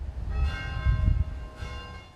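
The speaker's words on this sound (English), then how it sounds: "6 bell tolls, one for each month that has passed." A church bell tolls outdoors at a memorial for March tornado victims, ringing with a sustained, resonant hum as a new stroke sounds near the end over low background rumble.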